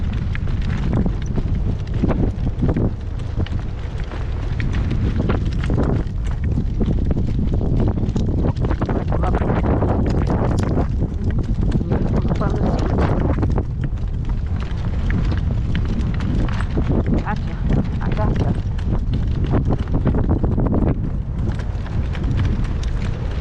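Gale-force storm wind buffets the microphone outdoors with constant heavy low roaring and rattling gusts, loud and unbroken from start to finish.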